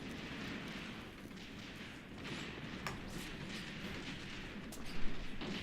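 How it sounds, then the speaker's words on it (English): Rifle fire from an AK in the war game Graviteam Tactics, a dense rumbling battle din of distant shots and blasts with a few sharper cracks and a louder burst near the end. "Nice AK fire, continue it."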